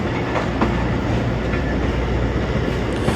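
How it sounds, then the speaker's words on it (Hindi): A passenger train runs on the line from Sialkot Junction to Wazirabad, its wheels rumbling and clacking steadily over the rail track, loud and close throughout with no talk. "और मैं ज़्यादा आप और इस खूबसूरत ट्रैक साउंड के दरमियान नहीं आऊँगा।"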